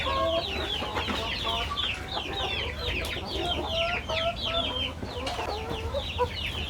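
Chickens clucking steadily close by, with many high chick peeps chattering over them throughout, no voices; egg-laying hens with their chicks.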